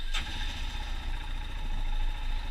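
A Royal Enfield Himalayan motorcycle with electric start and no kick starter fires up with a brief sharp click, then settles into a steady, close, low engine hum.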